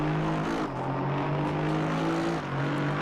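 An Aston Martin V8 GT3 race car accelerating at Donington in Assetto Corsa Competizione, its engine holding a loud, steady drone with a slight pitch shift midway, continuous and alone throughout.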